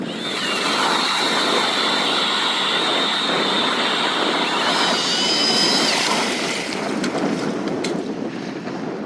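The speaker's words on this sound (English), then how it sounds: "Just drilled a hole." An ice auger drills through lake ice while ice fishing for crappies, making a loud, steady motor drone with a whining edge that holds constant, mixed with wind rush.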